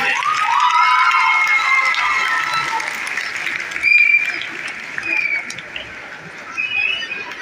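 Audience applause at a school and college annual prize distribution ceremony, loud steady clapping from a large crowd that tapers off over several seconds.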